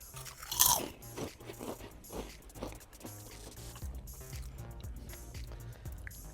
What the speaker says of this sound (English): I like the fact that they're crunchy and crispy